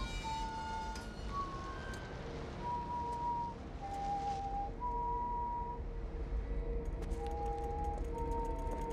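Clear whistled notes, held tones stepping between pitches, drift over a low background hum of traffic or machinery.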